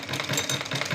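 A sewing machine runs steadily while stitching lace trim onto fabric during a hand-finishing class, with a continuous close whirring hum and small pulsing rhythm throughout the second.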